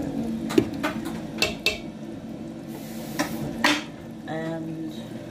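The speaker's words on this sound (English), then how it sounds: "Bit of stir. Stir," Stirring a pot of vegetable soup for the week, with a few scattered clinks and scrapes of a utensil against the pot and short bursts of movement at a moderate distance.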